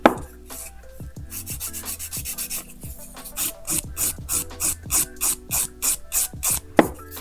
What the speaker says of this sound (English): I'm just going to use a soft file around the cuticle